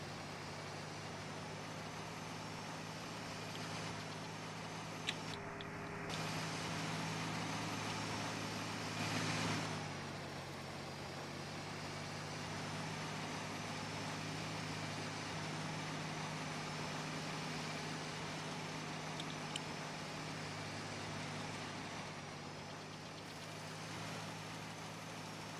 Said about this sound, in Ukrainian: Мотор розвалюха